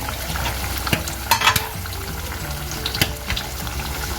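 A clay pot of mango-and-chilli fish curry swirled by hand, giving a steady simmering sizzle with a few scraping knocks of the pot scattered through, close and continuous with no talking.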